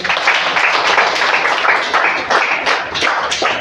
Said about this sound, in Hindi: सब लोग ताली बजा दो